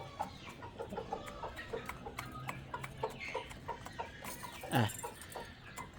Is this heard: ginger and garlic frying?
no